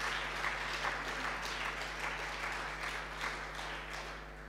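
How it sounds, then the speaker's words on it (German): Delegates at a Bündnis 90/Die Grünen party congress give a long, even round of applause, filling the hall with steady clapping, heard slightly distant with a low hum beneath. "Applaus"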